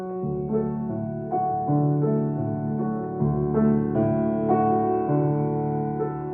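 Solo piano plays the slow, legato opening of a Chopin ballade, chords and low notes blending softly together at a gentle, even volume with no voices.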